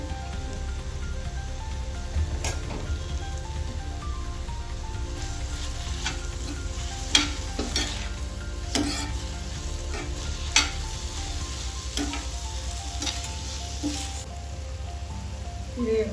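Veg noodles with soy sauce sizzling in a pan on the stove: a dense, steady frying hiss like rain, with occasional sharp ladle clicks and scrapes, near and continuous.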